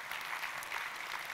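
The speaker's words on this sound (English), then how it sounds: "Another round of applause" Faint, distant audience applause after a conference talk on AI in medicine, a brief, even wash of clapping.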